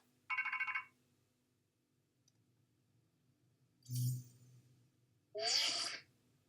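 A Rotom phone in the Pokémon Legends Z-A video game chimes in three short, separate electronic bursts spaced a few seconds apart, each clear and close, with quiet gaps between them.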